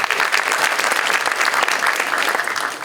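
A festival crowd at a documentary screening Q&A claps continuously and vigorously, a thick, even wash of applause that holds steady for the whole stretch.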